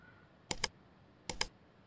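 Computer keyboard keys pressed in two quick clusters, each a pair of close clicks, sharp and near against a quiet background.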